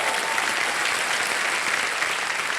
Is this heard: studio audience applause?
yes